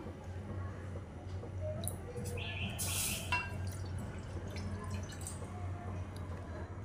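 Water is poured into a bowl for modak dough in a home kitchen, a faint, brief trickling splash in the middle against a quiet room hum.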